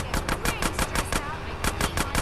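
Rapid automatic gunfire from GTA San Andreas Definitive Edition, a dense stream of sharp shots in quick rhythmic bursts with a brief pause midway, loud and close, over a faint game background.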